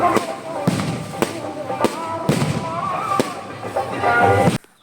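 Several fireworks burst at irregular intervals at a Tamil temple festival, sharp cracks over a constant crowd murmur and background voices, fairly close and loud.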